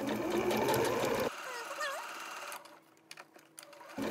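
A sewing machine stitches fabric for a chicken saddle, running fast and steady and close for over a second, then stopping, followed by a few short clicks and bursts as the piece is handled.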